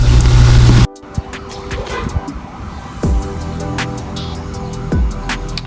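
A Ford Escape with slipped timing cranks without compression, a loud even whirring that cuts off abruptly, followed by quieter clicks and a few short repeated crank bursts.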